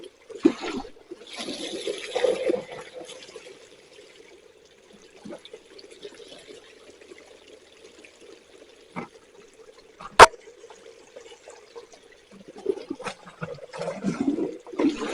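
A bucket of water poured through a gold prospecting sluice at Cabbage Tree Creek gives soft, steady running and trickling, with brief splashes and clunks, a sharp knock midway and a louder rush toward the end.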